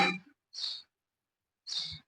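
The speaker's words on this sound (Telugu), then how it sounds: "పిచ్చుకలు ఒకటే సౌండ్ చేస్తున్నాయి." Sparrows chirp near a kitchen window in three short, bright bursts separated by silence, close and clear with no talk.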